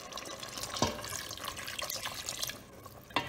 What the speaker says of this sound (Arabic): غادي نزيد الكميه المناسبه ديال الماء فين غادي يطيب اللحم